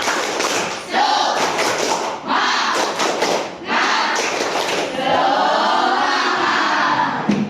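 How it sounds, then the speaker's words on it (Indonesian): A classroom of schoolchildren performs a rhythmic spirit clap, bursts of patterned claps with chanting voices and thumps, loud and close, in several segments. "kita tepuk semangat dulu ya"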